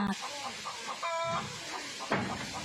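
Farmyard chickens cluck in short, scattered bursts at a moderate distance, with a voice talking over part of the sound.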